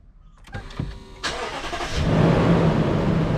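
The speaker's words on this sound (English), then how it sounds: "So I'm going to start up the vehicle." A car engine cranks with a few short starter turns, then catches and settles into a steady, close idle hum, heard alone during a rear brake pad and rotor job on a 2010 vehicle.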